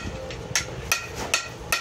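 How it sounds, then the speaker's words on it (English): A hammer strikes around the lip of a copper and wrought iron coffee scoop to flatten it, giving four evenly spaced, sharp metallic taps that ring briefly, close and clear. "I like to hammer a little flat area around the lip."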